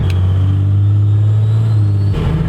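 An old truck on new shocks drives along a road with a steady, loud low engine drone and rumble close by, shifting slightly near the end.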